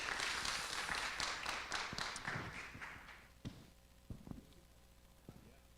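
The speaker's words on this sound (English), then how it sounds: "Why don't we give him a round of applause?" An audience applauds as a guest is called up on stage: dense, steady clapping for about three seconds, then fading into a few scattered claps and thumps in a quieter room.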